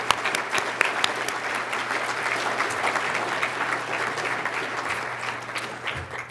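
Steady applause from an audience at a youth courage awards ceremony, a dense even patter of clapping that holds at moderate distance throughout.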